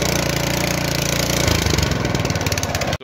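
A single-stage snowblower engine runs after a pull start, idling with a loud, close, rhythmic mechanical chug that cuts off abruptly near the end, with no talking.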